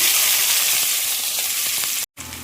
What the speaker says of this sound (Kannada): ಈಗ ಒಂದು ಸ್ಪೂನ್ ಆಗುವಷ್ಟು ಜೀರಾ ಹಾಕ್ಕೊಳ್ತಿದ್ದೀನಿ ಹಾಗೆ ಒಂದು ಸಣ್ಣ ಈರುಳ್ಳಿ ಹಾಕ್ಕೊಳ್ತಿದ್ದೀನಿ